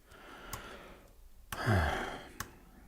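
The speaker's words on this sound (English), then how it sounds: "Yawn." A long, breathy yawn with a rising and falling voiced groan, bracketed by a few soft clicks and quiet background hiss.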